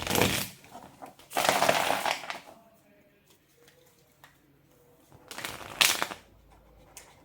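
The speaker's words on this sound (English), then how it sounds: "Why can't I shuffle this deck today?" Cards are riffled and shuffled in several crisp, rustling bursts separated by quiet pauses, close by.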